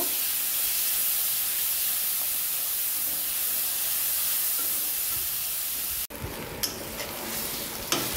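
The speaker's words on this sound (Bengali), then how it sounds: "কচু কষিয়ে নিচ্ছি, দেখুন" Taro greens with a hilsa fish head sauté in a pan, a loud continuous sizzle and hiss close up that cuts off sharply near the end, followed by quieter scraping and stirring clicks.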